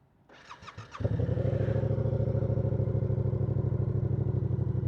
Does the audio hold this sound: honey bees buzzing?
no